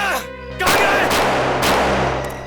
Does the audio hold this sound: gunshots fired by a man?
yes